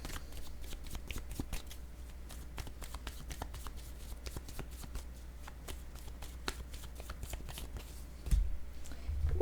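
Playing cards are shuffled steadily for a tarot-style card reading, with quiet, close riffling and rapid papery flicks that continue for several seconds before a soft thump near the end.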